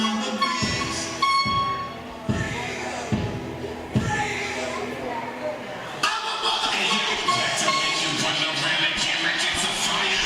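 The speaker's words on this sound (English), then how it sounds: "there's always a build-up when a freight train's coming. You hear it. You hear it chugging" A freight train rumbling and clattering past with rhythmic heavy thumps, growing louder and denser, while people talk over it.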